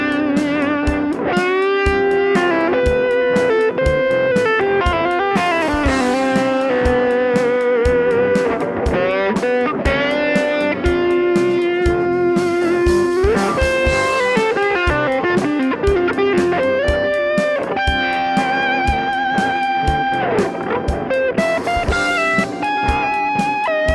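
Electric guitar through fuzz, overdrive and distortion, a gritty, saturated tone with sustained notes and busy riffs over a steady backing.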